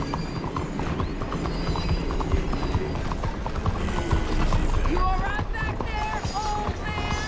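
Rapid galloping hoofbeats of a horse in Red Dead Redemption 2, a steady close clip-clop rhythm throughout, with someone talking over it and brief whinny-like tones near the end.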